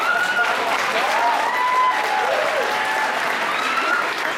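A convention audience applauds in a sustained, dense roar of clapping, with faint cheers and scattered voices woven through the crowd noise.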